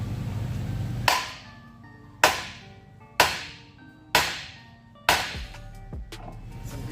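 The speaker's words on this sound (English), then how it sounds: "take a hammer and hit it right here on the actual knuckle part" Hammer striking the steering knuckle of a 2015 Dodge Grand Caravan during a front-wheel-drive transmission removal: five sharp, ringing metallic blows about a second apart, each decaying quickly, close and loud with no talk.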